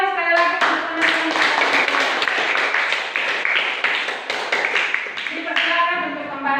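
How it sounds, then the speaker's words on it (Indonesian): A classroom of students claps for a group of classmates, a lively burst of hand claps lasting several seconds, close and fairly loud, with bits of voice at the start and end. "Nah, kita tepuk tangan sekali lagi untuk teman-teman."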